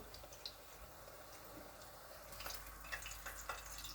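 Quiet, steady sizzling of eggplant frying in oil, with faint crackles and a few light stirring clicks toward the end.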